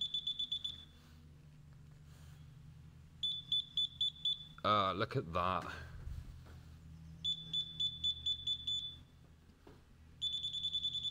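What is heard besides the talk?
moisture meter probe beeping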